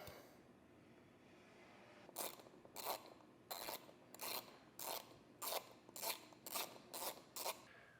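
A riv nut tool draws up a bolt to set a rivet nut while a platform rack is fitted to a 2013 vehicle: after a quiet start comes a series of about ten close, crisp ratcheting clicks in a steady rhythm.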